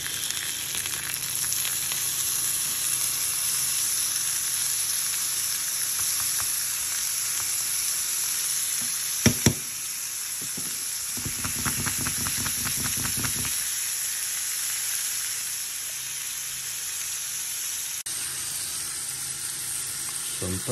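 Butter sizzling in a frying pan beside a lamb rack, a steady close hiss and crackle that runs throughout, with a couple of brief clinks and stirring scrapes partway through.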